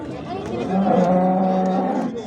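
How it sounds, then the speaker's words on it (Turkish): A large cow at the Diyarbakır livestock market gives one long, loud, low moo, heard close up over the market's background murmur. "İnek, iri bir inek"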